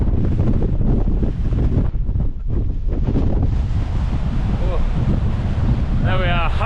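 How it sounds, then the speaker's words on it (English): Strong wind buffets the microphone on a Lake District hillside near Stickle Tarn, a loud, continuous roar with gusting surges throughout; a voice briefly shows near the end. "This wind is relentless, but it is pushing me up the hill"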